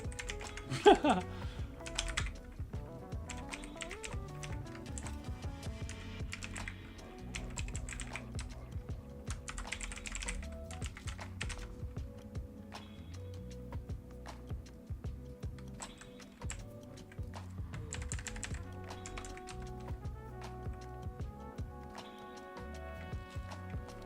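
Computer keyboard typing while entering a sudo command during a Raspberry Pi camera setup for a robot build, a steady run of close, quick key clicks with brief pauses and no talking.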